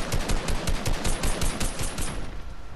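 Rapid automatic gunfire in the video game Fortnite, a dense burst of fast repeated shots lasting a couple of seconds before tapering off, loud and close with no talk.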